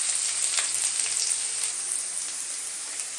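Garlic fries in hot oil with mustard seeds for potato bonda, giving a steady, bright sizzle with faint crackles, close and unbroken throughout.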